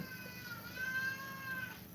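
A domestic cat meows, a thin, drawn-out tonal cry that repeats briefly over steady low room noise, fairly soft and somewhat distant, with no one talking.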